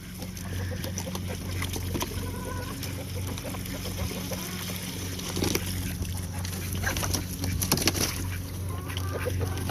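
Chickens cluck and squawk in an outside pen on a hot day, a busy continuous chatter of birds over a steady low background hum, with some louder bursts toward the end.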